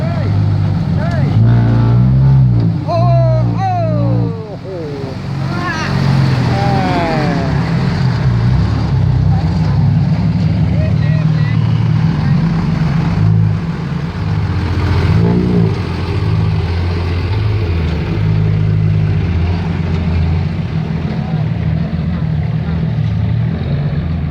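The tuned engine called Manao, from Dam Sing Din Duan, drones loudly and steadily, rising and falling as it revs, while someone talks over it near the start and middle.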